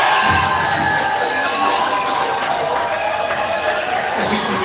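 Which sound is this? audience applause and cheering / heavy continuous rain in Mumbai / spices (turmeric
audience applause and cheering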